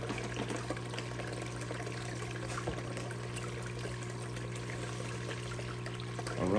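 Water and pay dirt run through a gold prospecting sluice, a continuous close pouring and trickling wash with a steady low hum beneath, slightly louder at the end.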